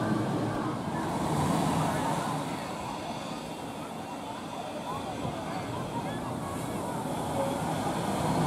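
Stormy sea surf pounding the rocky Crete coastline near small caves, a steady loud wash of breaking waves with wind rumble, no clear speech.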